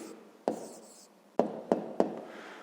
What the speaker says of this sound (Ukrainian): Отже, записуємо відповідь.